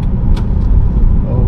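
A truck blocking a downtown street in New Holstein, Wisconsin, gives off a loud, steady low engine rumble that fills the short moment close by, with no break.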